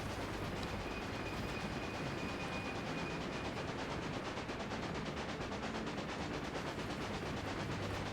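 Train in Railway Empire rolling along tracks through the Sierra Nevada, a dense rattling clatter with a faint whistle-like tone, steady and moderately quiet throughout.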